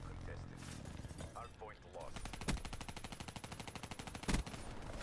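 Rapid automatic machine gun fire in Black Ops 3 multiplayer, sustained bursts of fast, evenly spaced shots with a couple of louder impacts, heard at moderate level alongside game sounds.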